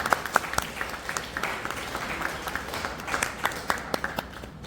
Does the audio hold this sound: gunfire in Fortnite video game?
no